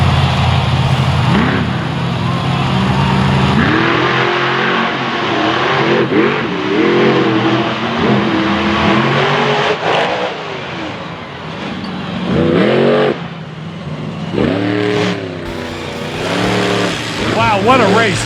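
Monster truck engines rev and roar around a racing track at a Renegade event in Marietta, loud and continuous with rising and falling revs, while an announcer talks over the racket.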